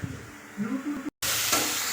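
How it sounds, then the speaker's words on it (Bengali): Pieces of taro (arvi) frying in a pan: a low sizzle breaks off briefly, then returns as a loud, dense, steady hiss close up. "আমি এখন কচুগুলা বসিয়ে দিয়েছি আর একটু ভাজা ভাজা করে নিব"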